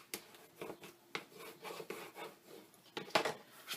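Tape burnished onto the paper backing of a picture frame kit, quiet close rubbing strokes in an irregular rhythm of short scrapes, one slightly sharper, with no voices.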